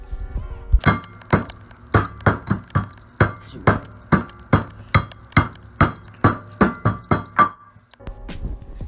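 A pan bangs down repeatedly on packaged cashews to crush them into crumbs, about fifteen loud, close, evenly spaced thuds in a steady rhythm, with no talking.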